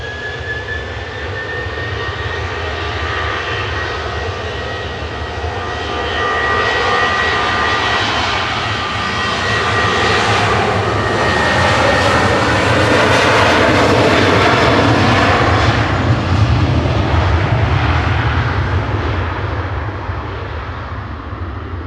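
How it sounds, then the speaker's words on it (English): A 16-year-old Ryanair Boeing 737-800 departs from Manchester Airport, its jet engines a loud, sustained roar that swells to a peak midway and slowly eases, with thin whining tones above and no talk over it. "Ryanair's lined up for departure though, heading to Santander."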